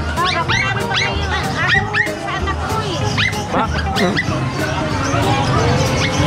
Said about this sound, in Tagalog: Ang dami pala aso